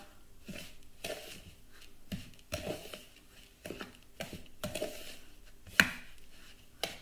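Fruit crumble ingredients being mixed together in a bowl, heard as irregular soft scraping and knocking strokes that repeat at an uneven pace, fairly quiet and close, with no talking.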